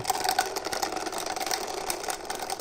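An aquarium external filter pump motor runs with a steady mechanical whir, irregular knocking and rattling riding on the hum as if the rotor strikes something inside; close and continuous, no talk.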